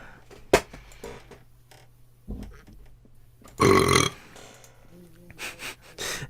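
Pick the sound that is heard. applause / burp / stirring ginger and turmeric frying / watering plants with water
burp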